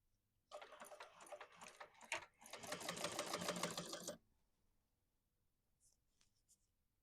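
A sewing machine chain stitching along the bottom edge of a zippered card-slot wallet, running in a steady close-up whir for about three and a half seconds, with a short pause partway through, then stopping to near silence.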